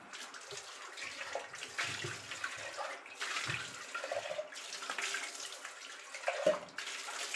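Running tap water splashes as a used item is rinsed and washed by hand, a soft steady stream broken by handling knocks and a brief clunk, fairly quiet and close.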